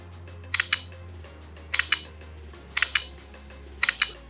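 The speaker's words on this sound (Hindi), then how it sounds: "जो इसकी शटर साउंड है वो एकदम लीफ वाली" A OnePlus smartphone with Hasselblad-tuned camera fires a leaf-style shutter sound four times, each a crisp double click spaced about a second apart, close and clear over a low hum.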